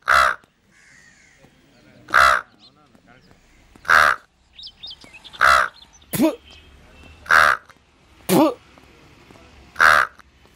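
A person's voice imitates a crow, giving about eight loud, harsh caws at a steady pace of roughly one every one and a half seconds, with quiet gaps between.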